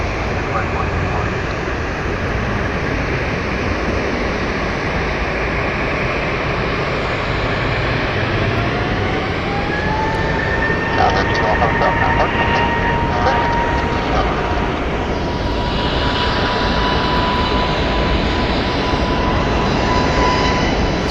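A Frontier airliner departing Phoenix Sky Harbor, a loud continuous jet engine roar that rises in pitch and intensity over the clip, with a whining tone climbing midway, heard alone and fairly close.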